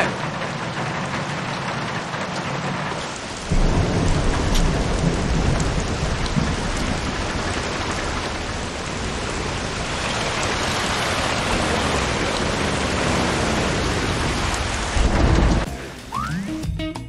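Steady heavy rain pours down through a video game thunderstorm in the Bee Movie Game, a dense continuous wash that swells louder at about four seconds and stays alone with no voices before cutting off near the end.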